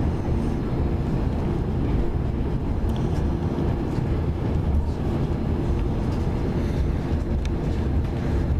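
Train pulling into Edinburgh Waverley station, a dense, steady rumble and rattle of rolling carriages with broadband noise throughout, close and continuous, no voices.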